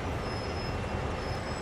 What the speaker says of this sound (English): we're going to back up into the string of cars